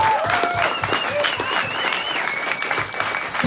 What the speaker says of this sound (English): let's just give a round of applause for them